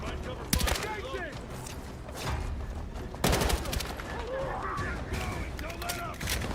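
Bursts of gunfire from the Battlefield video game crackle in rapid fusillades with mechanical clatter between them. A voice talks over the shooting.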